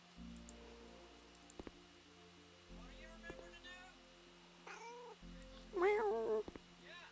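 A cat meows in House Flipper's Pets DLC, a few short mewing calls near the end amid quiet game ambience and soft clicks, with a person speaking briefly nearby.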